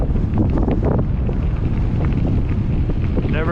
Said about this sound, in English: You gotta have confidence and no quit in you to handle this kind of headwind.